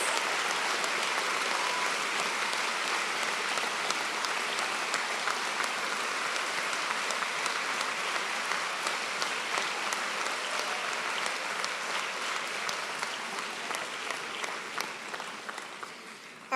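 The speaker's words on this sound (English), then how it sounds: "Let's have a big round of applause for all our new Bachelor of Education graduates today" Sustained applause from a graduation ceremony audience honouring new Bachelor of Education graduates, a dense steady clapping that holds for most of the stretch before thinning out near the end.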